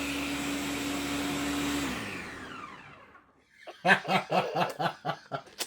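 A Ninja Detect blender whirs loudly for about two seconds while blending Guinness punch, then winds down and stops, followed by bursts of laughter.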